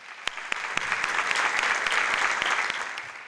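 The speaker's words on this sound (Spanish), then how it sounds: "un aplauso para él." A theatre audience applauds in the stalls of a large theatre during a book presentation, steady dense clapping filling the hall for a few seconds, with occasional sharper individual claps standing out.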